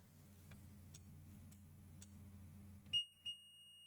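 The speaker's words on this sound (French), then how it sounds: "Je le teste hors circuit, en mode bip." A multimeter set to continuity mode beeps on a capacitor pulled out of the circuit board of a Wacom Cintiq 24HD, two short tones after faint ticking in a quiet room.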